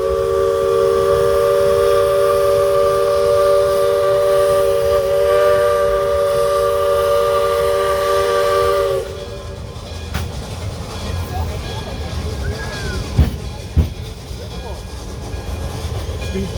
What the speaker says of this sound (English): This is a gear-driven steam engine, built for logging and coal mining.